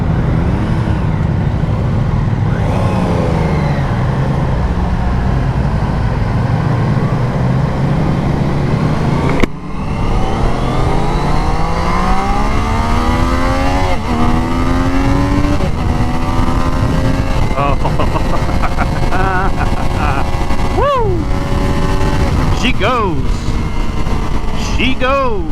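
A 2024 Triumph Daytona 660 motorcycle engine pulls hard through the gears, loud and close, with revs climbing then dropping at each shift, as heard from the rider's seat with wind noise.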